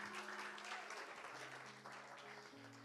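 A church congregation applauds during an evangelist's sermon, a quiet, continuous patter of clapping with a sustained musical tone held underneath.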